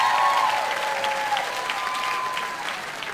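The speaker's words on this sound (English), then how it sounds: "Y'all clapping." Audience applause at a stand-up comedy show, a dense, moderately loud burst of clapping that holds steady for a few seconds with faint voices mixed in.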